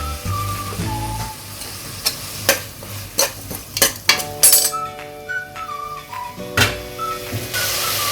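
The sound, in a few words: mutton keema added and stirred in cooking pan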